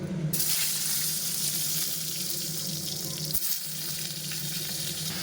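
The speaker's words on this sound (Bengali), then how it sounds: "এবার দিয়ে দিব পটল ভাজাটা" Sliced pointed gourd frying in hot oil, a continuous close sizzle with faint stirring and a short knock partway through, steady and without talk.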